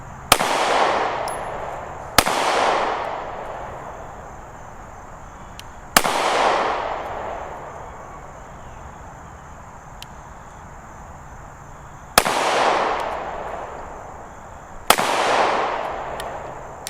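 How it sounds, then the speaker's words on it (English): Five Smith & Wesson M&P Shield X pistol shots fired at about 10 yards, spaced slowly and unevenly with sharp cracks and ringing decay between them, loud and close with no talk. "I noticed I was shooting a little bit low, so I brought it up a little bit."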